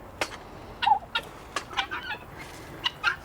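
Chickens clucking on a small farm kept alongside goats: short, bright clucks come in scattered bursts close by, with quiet gaps and no talking.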